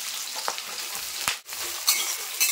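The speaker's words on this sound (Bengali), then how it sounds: "তো তেল গরম হয়ে গেছে, আমি প্রথমে বেরেস্তা ভেজে নেবো পেঁয়াজের।" Sliced onions sizzle in hot mustard oil in a pan, a steady close crackling fry broken by a few sharp scrapes and clacks of a stirring spoon.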